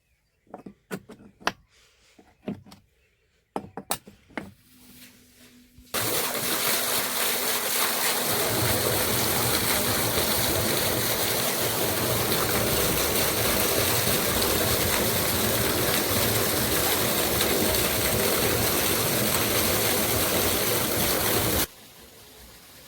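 Irrigation water rushing into a wheat field from a pumped motor line, a loud, steady gush that starts abruptly after a few scattered knocks and runs continuously before cutting off.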